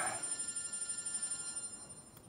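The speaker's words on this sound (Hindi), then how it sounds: "आपका फोन आ रहा है।" A telephone rings in a domestic scene from a Pakistani TV drama: a faint, steady electronic ringing tone with high sustained pitches, heard alone without speech.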